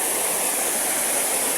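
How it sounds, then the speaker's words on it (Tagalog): Fresh water flows out from under rocks and earth, a steady, full rushing sound like a stream or small waterfall, close and continuous with no speech. "may sariwang daluyan na tubig"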